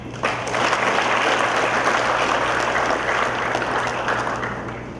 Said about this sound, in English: Again, ladies and gentlemen, a warm applause.